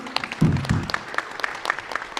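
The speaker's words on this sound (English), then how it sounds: "So a big round of applause." Brief scattered clapping from a school audience welcoming a chartered accountant guest at a budget talk, a thin patter of hands with a few louder claps near the start, fairly faint and without voices.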